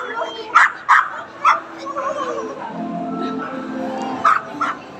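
A dog barks and yips several times in short sharp bursts, with a softer whimper in between, while people talk over it nearby.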